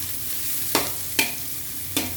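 Bitter gourd leaves sauté in a pan under a steady, close sizzle of hot oil. Three distinct spatula scrapes strike the pan at uneven intervals while the leaves are stirred.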